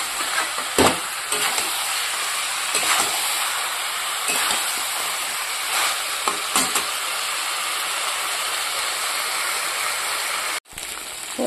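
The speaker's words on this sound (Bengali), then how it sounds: "এবার মাংসটাকে কষিয়ে নেব।" Chicken pieces braised in a pan, stirred steadily with a steady sizzle and occasional clinks of the spoon against the pan. The sound is close and continuous, with no talking.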